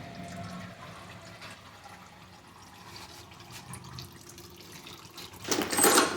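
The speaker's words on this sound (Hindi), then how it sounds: "और आप देखेंगे तो देखिए यहाँ कितना पानी हो रहा है, इस तरह से पानी गिरता है।" Water pouring out beneath a Renault Duster during a major engine service after the engine oil is drained, a low steady splashing trickle that swells into a louder gush near the end, with no one talking.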